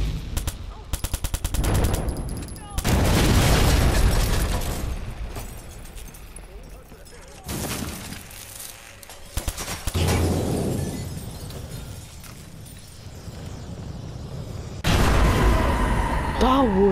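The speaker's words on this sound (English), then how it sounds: "Was a sick explosion." Loud bursts of gunfire and booming blasts, including a car exploding, in the video game Watch Dogs online free roam, intense stretches broken by brief lulls.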